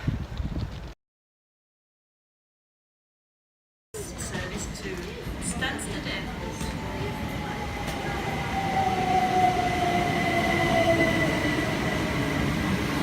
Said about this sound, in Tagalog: So I better take the train now.